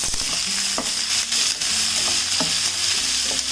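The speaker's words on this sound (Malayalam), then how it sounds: "ഇതിലിട്ട് ഇതോടൊപ്പം തന്നെ നമ്മൾ ഈ അരിഞ്ഞു വെച്ചിരിക്കുന്ന സവാളയും കൂടി ഇട്ട് വഴറ്റണം" Onions, cashews and raisins fry in a pan, giving a loud, continuous hissing sizzle with low tonal hum underneath and occasional stirring clicks, close up and with no voices.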